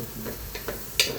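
A spoon stirring ratatouille frying in a pan, a few soft scrapes and clacks against the pan over a low sizzle, close and brief, with one sharper clink near the end.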